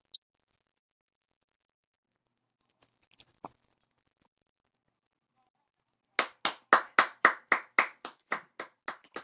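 A small group claps in a quick burst of about a dozen sharp, close slaps that grow then fade, following several seconds of near silence broken by a couple of faint isolated ticks.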